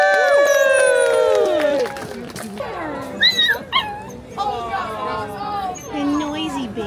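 Sled dogs at an Alaska sled dog camp yip, whine and bark excitedly in overlapping bursts, loud and close, with people cheering and talking throughout.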